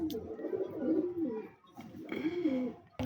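Teddy pigeons coo close by, two soft, throaty rolling coos separated by a brief pause.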